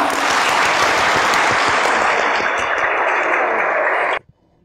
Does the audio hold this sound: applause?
yes